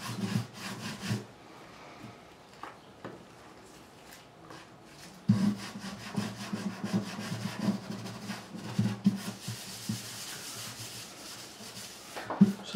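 Grime is scraped off the fingerboard of a Tanglewood TW115 acoustic guitar in repeated close, rasping strokes that run in a quiet stretch and then a louder, busier one.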